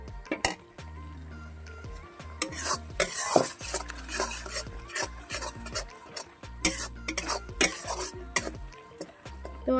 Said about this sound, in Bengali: তো ভালো করে কষিয়ে নেব বন্ধুরা